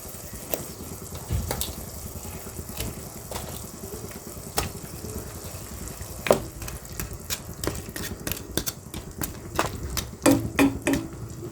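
Fish being added to a pan of boiling sarciado sauce, with bubbling and simmering throughout, punctuated by repeated sharp clinks and knocks of a utensil against the pan, irregular and close.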